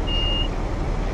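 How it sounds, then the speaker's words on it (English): A single steady electronic beep from the Class 380 train cab in Train Simulator 2019, a thin tone lasting under half a second over a constant low engine and running rumble. "the beep is the beeper sound, so I just gave the car two beeps"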